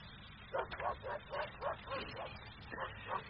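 Dogs in a radio play sound effect bark and yip repeatedly in a quick, uneven series, fairly faint and muffled, with a voice speaking behind them.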